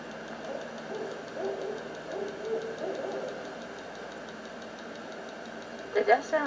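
A barred owl hoots in a Florida outdoor setting, a series of low, steady calls under a constant background hum, ending with a few sharper, louder notes.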